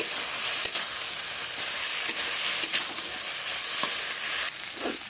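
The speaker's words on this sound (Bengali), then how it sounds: "এর মধ্যে আমি ভেজে রাখা আলু, ফুলকপি দিয়ে দেব। দিয়ে ভালোভাবে আবারও কষিয়ে নেব।" Fried potato and cauliflower sautéed in oil in a pan, a dense close sizzle with periodic spatula scrapes and taps, easing slightly toward the end.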